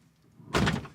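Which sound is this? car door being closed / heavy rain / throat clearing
car door being closed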